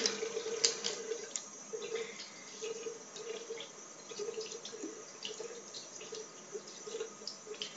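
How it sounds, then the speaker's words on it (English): Tap water runs into a sink for washing make-up brushes, a steady close splashing stream with small drips and fluctuations, fairly quiet and continuous. "So just going to run some water."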